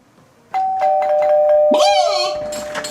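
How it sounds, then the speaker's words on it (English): A doorbell rings with a single sustained chime that rises out of near silence and is soon overlapped by an animated voice. "Ring the doorbell."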